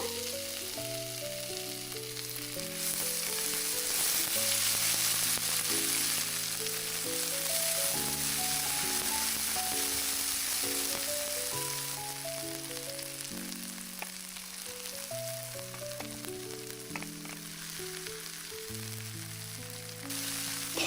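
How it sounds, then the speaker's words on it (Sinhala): Cooked dhal stirred into a sizzling pan for Sri Lankan parippu curry, with a steady frying hiss and soft stirring, while music plays over it throughout. "දැන් මම උයල පැත්තකින් දියාගත්ත පරිප්පු ටික මේකට එකතු කරනවා."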